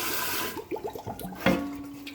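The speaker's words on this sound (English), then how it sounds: "Just run some water in there" Tap water briefly running into a plant pot for a quick rinse, a short faint splashing and gurgling burst close by, with a small clunk midway.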